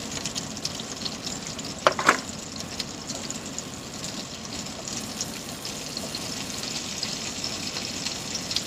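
Steak frying in a hot pan gives a steady, close sizzle throughout, with a couple of brief clatters near the start.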